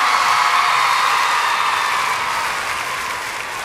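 Concert audience at a 2004 pop tour show applauding loudly, a dense wash of clapping from a large crowd that holds steady and then slowly fades over a few seconds.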